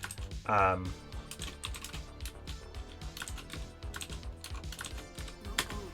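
Quiet, steady clicking of keys on a computer keyboard, rapid irregular keystrokes continuing throughout, with a brief voice near the start.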